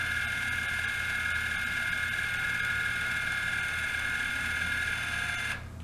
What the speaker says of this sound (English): I'll turn it to open it, and I'll turn it in a minute to turn the valve back on.